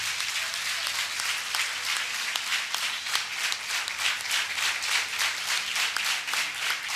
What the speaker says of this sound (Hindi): जोरदार तालियां यीशु के लिए बजाइए